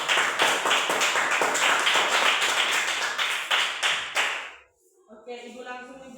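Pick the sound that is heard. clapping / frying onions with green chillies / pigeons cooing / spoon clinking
clapping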